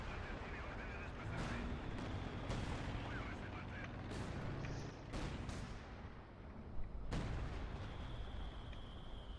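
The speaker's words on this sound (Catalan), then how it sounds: "No, és més que molt bèstia l'explosió que fot." Explosions and heavy artillery-style booms from the Company of Heroes 2 strategy video game, several sharp blasts spaced through a dense rumbling battle bed, with people talking over the action.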